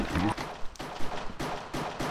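Pistol shots ring out during a pistol round of the Minecraft MC:GO game on the Hypixel server, several sharp cracks in a repeating rhythm, close and fairly loud.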